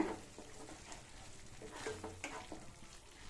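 Mixed vegetable gravy with fresh cream and crushed kasuri methi stirred in a pan, giving a quiet, soft continuous sizzle with light scraping strokes, faint and close.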